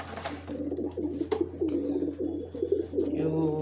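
Pigeons coo softly close by at feeding time, low burbling calls repeating over a steady hum, with brief rustles and scattered sharper clicks.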